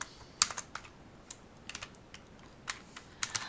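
Computer keyboard typing with scattered, irregular clicks and small bursts of keystrokes, close and fairly quiet over a low background hiss.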